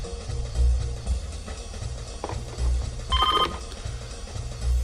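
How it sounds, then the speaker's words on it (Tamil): A telephone rings briefly near the middle over a low, rhythmic pulsing music bed, with no speech. "ஃபோன் அடிக்கிற சத்தம் உனக்கு கேட்கலையா?"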